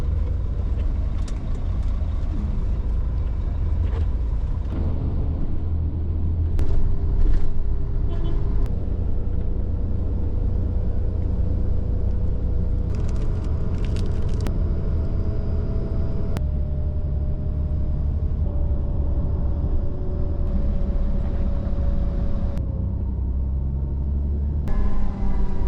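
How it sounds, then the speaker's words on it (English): Interior of a grubby intercity bus riding toward Göreme, Turkey: a constant low engine and road rumble with rattles, gear shifts and occasional hissing air brakes. "we're on the bus now"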